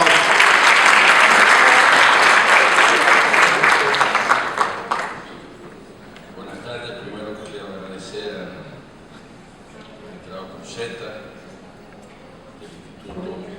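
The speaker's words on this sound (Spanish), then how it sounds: "Un aplauso" Applause from an audience at a Dominican procedural law conference, a loud dense burst of clapping for about five seconds that fades out, followed by quieter room noise and scattered murmuring.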